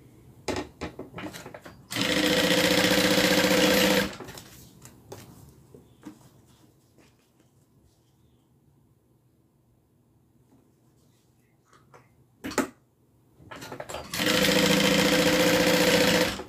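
A modified Aries sewing machine stitches small fabric pieces in two loud, close bursts, with quieter handling clicks and rustles in the pause between them.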